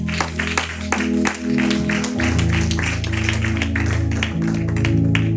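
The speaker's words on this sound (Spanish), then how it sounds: "Le damos un aplauso al Señor." A church congregation applauds during a Sunday service in Panorama City, a steady, fairly loud wash of claps over sustained music tones and a crowd murmur that continues throughout.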